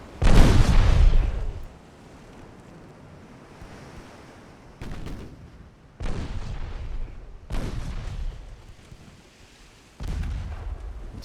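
Warship turret guns in a 1908-era dreadnought battle game boom several times, each a heavy, loud report with a rolling, rumbling decay. Wind and sea noise fill the gaps between shots, and no one speaks.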